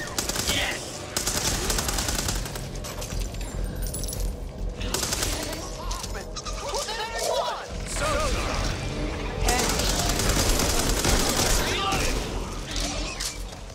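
Gunfire in the co-op zombie shooter Back 4 Blood, with dense machine-gun bursts and rapid shots that run loud and almost without a break, mixed with crashes and game sounds while players talk over it.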